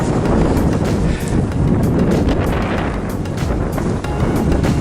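Strong wind roars continuously into the microphone on a walk along an old railway track near Otley, a loud, steady rumbling buffet with no pauses and no voices.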